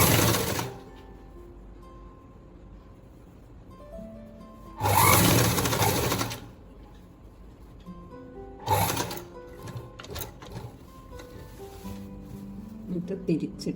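A domestic sewing machine stitches straight pants in two bursts, a long run near the middle and a shorter one later, each loud and close, with quiet handling and faint room noise in between.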